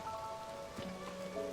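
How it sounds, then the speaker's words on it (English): Rain patters softly in the video game The Legend of Zelda: Tears of the Kingdom, a faint steady fall of drops over a quiet background tone during a brief moment. "Oh, it's raining."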